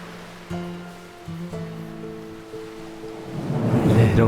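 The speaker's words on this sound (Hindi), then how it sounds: "लहरों की आवाजें।" Ocean waves build into a rising, rushing surge near the end, entering under sustained musical tones that hold through most of the clip.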